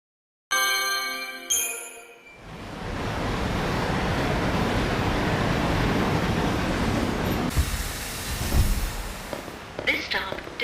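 A train ride in Lightning Returns: Final Fantasy XIII, with a chime before a steady rushing, rumbling roar of the moving train that swells and carries on for several seconds.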